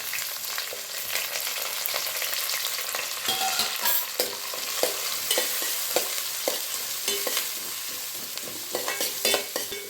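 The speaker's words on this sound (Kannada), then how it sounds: "ಈರುಳ್ಳಿ ಚೆನ್ನಾಗಿ ಫ್ರೈ ಆಗಲಿ ಈರುಳ್ಳಿ ಬಣ್ಣ ಚೆಂದ ಚೇಂಜ್ ಆಗಬೇಕು" Onions, green chillies and curry leaves frying in a pan for a tomato egg gravy, a continuous close sizzle broken by frequent stirring clatters and scrapes, with no voices.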